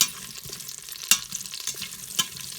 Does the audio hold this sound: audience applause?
no